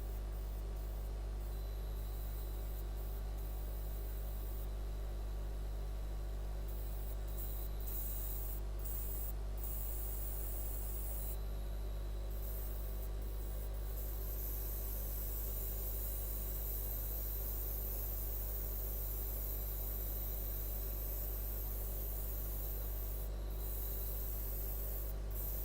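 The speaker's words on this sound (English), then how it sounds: "My airbrush is acting up" An airbrush that is acting up sprays in a steady, faint hiss with brief bursts and pauses, heard close and alone without talk over a long stretch.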